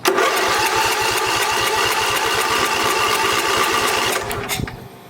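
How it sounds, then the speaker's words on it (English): A lawn mower engine cranks steadily during a compression test, a loud, fast rhythmic chugging that runs for several seconds before stopping abruptly near the end. "we're going to crank the engine, and we're going to let it crank probably 3, 4, 5 times"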